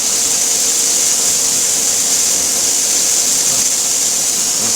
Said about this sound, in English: I'm just going to press cycle start and let it rock